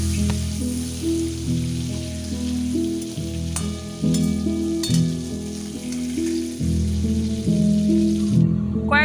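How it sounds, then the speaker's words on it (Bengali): Shrimp frying in hot oil with turmeric and salt, a steady loud sizzle with occasional stirring clatter, crackling continuously throughout with no talk. "চিংড়ি মাছগুলো আমি কিন্তু মাত্র 2 মিনিট ধরে ভেজে নেব।"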